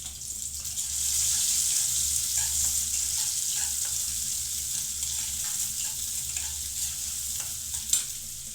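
Onion and green chili sizzle steadily in hot oil in a wok, a continuous close frying hiss with occasional stirring scrapes and a sharp clink near the end.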